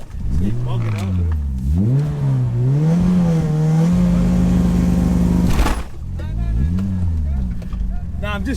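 A 700 bhp tuned Evo or Impreza engine revs repeatedly on launch control, rising and falling then holding a loud steady bang-limited drone before dropping off and revving again, close by, with voices talking over it.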